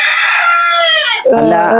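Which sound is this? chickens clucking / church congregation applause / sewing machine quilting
chickens clucking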